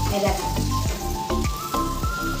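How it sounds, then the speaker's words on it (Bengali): Peas-filled kachori deep-frying in a pan of hot oil for a vegetarian aloo dum meal, a steady close sizzle with bubbling crackle and a few scraping stirs, no talking. "কড়াইশুঁটি কচুরি, যে মা এখন ভাজছে এখনো।"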